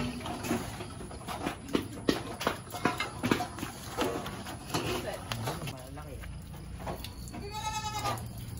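Goats being fed on a farm: steady clattering and munching with scattered knocks, a bleat rising near the end, and people talking throughout.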